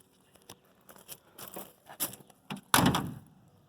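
A 1937 Pontiac C6 Touring Sedan door shuts with a solid thump near the end, preceded by soft handling clicks and rustles close by.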